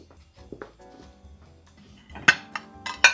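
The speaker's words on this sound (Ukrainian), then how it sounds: "Беремо красиву тарілку тепер." Ceramic dishes clink and knock together as a plate is lifted, with a couple of sharper rings near the end after a quieter start.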